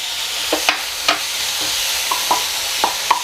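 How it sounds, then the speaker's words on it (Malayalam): Chopped tomato goes into a hot pan for tomato rice and is stirred, a constant sizzle with sharp spoon scrapes and clicks against the pan at irregular intervals, no one talking. "ഇനി ഒരു വലിയ തക്കാളി ഇതുപോലെ മുറിച്ചിട്ട് അതും കൂടി അങ്ങ് ഇട്ട് കൊടുക്കാം"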